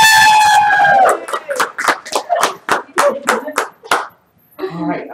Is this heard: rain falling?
no